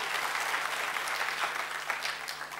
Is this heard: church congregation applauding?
yes